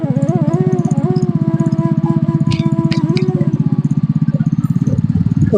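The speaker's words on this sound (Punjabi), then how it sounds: "ਸਪੀਡ ਰਫਤਾਰ ਮੋਟਰਸਾਈਕਲ ਦੀ ਤੇਜ਼ ਹੋ ਗਈ ਆ" A motorcycle engine runs steadily up close on a road through village farm fields in Punjab, its pitch rising and falling as it picks up speed, with a few light clicks and rattles.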